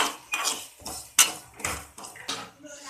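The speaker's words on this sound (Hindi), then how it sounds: "इसको हल्के चूल्हे पे भून लेंगे" Utensils scraping and clinking against a metal pan over a low flame as mustard seeds and fenugreek seeds roast, in a series of short, irregular strokes, close by, with no voices.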